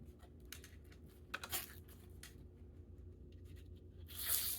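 Decorative paper ephemera is torn by hand along one edge to make a softer border, with faint scratchy rips and a louder, longer tearing burst at the end, set close and quiet with no voices.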